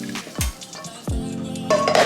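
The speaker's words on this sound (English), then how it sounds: "so I'm just gonna transfer this to another bowl" Cooked salmon lasagna filling being moved into another bowl, with a spoon clanking against pot and bowl, a couple of sharp knocks, and some soft scraping and stirring, close up and with no talking.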